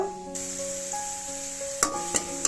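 Onions and green chillies fry in a pan with a steady close sizzle, broken near the end by a few sharp taps of a utensil against the pan.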